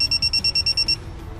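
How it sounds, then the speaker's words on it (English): A Geotab GO9 vehicle telematics device gives a rapid series of about eight or nine short, evenly spaced electronic beeps, loud and close, then falls quiet. "Once all 3 LEDs turn solid and the device emits 10 quick beeps,"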